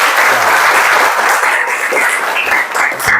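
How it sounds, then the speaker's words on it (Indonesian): A classroom group claps together in a lively, dense round of applause during a school lesson, loud and continuous for about three seconds, with a few voices mixed in near the end. "Berikan tepuk tangan buat semua dulu"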